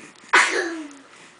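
A single sharp sneeze from a small child, abrupt and close, trailing off into a short breathy tail in a quiet room.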